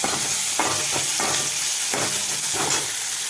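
Tomatoes fry in oil in a pan with a constant hiss, broken by a few quick spatula scrapes at a loose, irregular rhythm.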